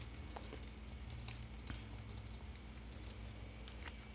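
Faint, quick clicks of keys on a computer keyboard while a name is entered into a student sign-up form, scattered taps over a steady low background hum, with no voices.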